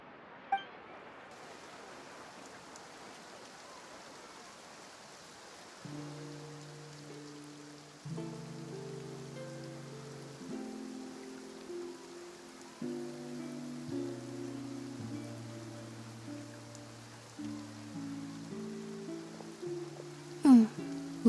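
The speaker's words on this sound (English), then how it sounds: "Looks like rain" Steady soft rain patters throughout in Genshin Impact, joined partway by a gentle melodic tune of layered tones, with a few brighter clinks near the end.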